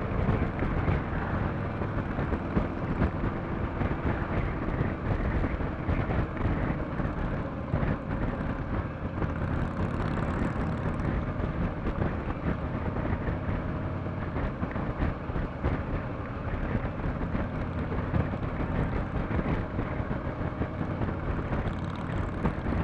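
A 2014 Harley Davidson Ultra Limited Rushmore with a 103 ci engine cruising in fourth gear, a steady broad engine drone mixed with rushing wind, loud and continuous throughout with no talk.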